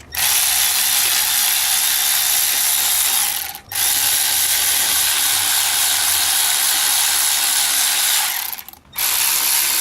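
A worn AC compressor clutch bearing on a BMW E36's M52 engine grinds and rattles in a loud, continuous harsh drone, broken by two brief pauses.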